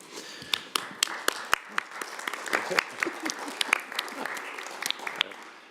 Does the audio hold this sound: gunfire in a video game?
no